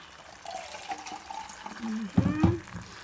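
Water pours briefly into a pan, a short trickle that swells into a louder splash near the end, with faint talk around it.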